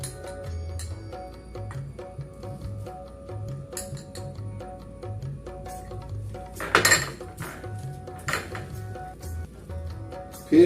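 Metal spoon clinking against a bowl while gram flour is scooped in, a run of light scrapes and taps with a sharper clink near the middle, fairly close, no talking.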